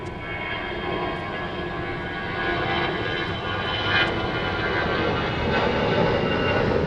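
An aircraft taxiing at Gatwick Airport, heard airside: a steady, loud engine roar and whine holds throughout with no break.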